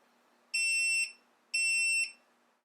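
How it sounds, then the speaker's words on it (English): Two loud electronic beeps from a Viofo BP100 dashcam battery pack as it resumes charging, each about half a second long and a second apart, sounding alone against a quiet background. "it's going to do that same double beep as it resumes charging"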